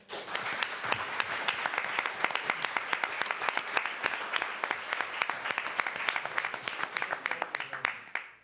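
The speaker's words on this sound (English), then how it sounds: "So y'all give them a round of applause." An audience at a Scottsboro city council meeting applauds the team with a sustained round of rhythmic clapping in an indoor room, fading near the end.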